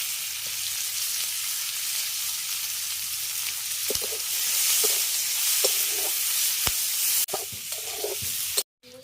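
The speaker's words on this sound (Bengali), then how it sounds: "এবার এর মধ্যে দিয়ে দিচ্ছি কুচিয়ে রাখা পেঁয়াজ আর চেরা কাঁচা লঙ্কা" Chopped onions and slit green chilies sizzle steadily in hot oil left from frying snakehead fish for curry, with a few sharp clicks of a spatula against the pan and a brief stir near the end.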